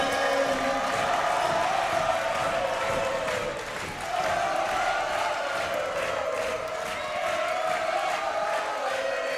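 Crowd at a Trinity University versus Eau Claire volleyball match, standing and cheering in a loud sustained roar with whoops. The roar dips briefly and then swells again.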